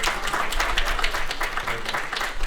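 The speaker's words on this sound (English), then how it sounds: "please, a round of applause for Dr." Sustained audience applause and clapping for Dr. Omar Kokar at a cricket fireside chat event in Chicago, Illinois, steady and full throughout with a dense crowd texture.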